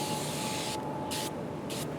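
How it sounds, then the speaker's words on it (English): Griot's Garage foaming glass cleaner sprayed onto a car window in three short, sharp hissing bursts over a low background hum, close to the listener. "they're going to spray it on the window"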